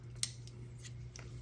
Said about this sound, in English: I'm gonna cut the script off of this sticker